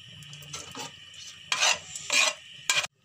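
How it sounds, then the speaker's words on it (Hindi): Whole cloves and green cardamom pods dropped into hot ghee in a pan for semolina halwa, giving short bursts of crackling sizzle and stirring scrapes in three separate spurts, close and moderately loud with no talk. "अब इसके अंदर हम लौंग और छोटी इलायची ऐड कर देंगे"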